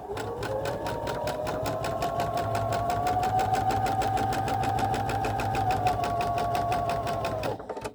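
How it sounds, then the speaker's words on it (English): A sewing machine stitches quilt block squares together, running steadily and loudly with a fast rhythmic whir for almost the whole stretch before stopping abruptly at the end. "Sew that and get all my block squares sewn together."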